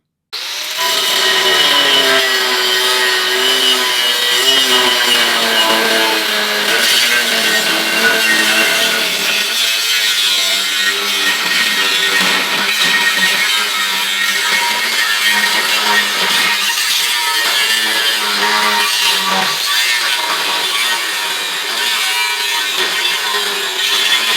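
An angle grinder fitted with a pipeliner's wheel bears down on thick stainless steel, a loud, steady, ringing whine and rasping grind that holds close and unbroken for the whole stretch.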